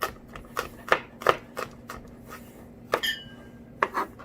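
A knife chopping garlic on a cutting board, a quick irregular series of close taps and thuds, some spaced by brief pauses, with no talking.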